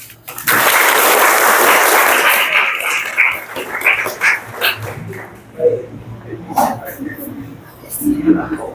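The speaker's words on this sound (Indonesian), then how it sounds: "Oke, tepuk tangan." A classroom group applauds on cue, a dense burst of clapping lasting a couple of seconds before fading into scattered claps, chatter and a dog yipping nearby.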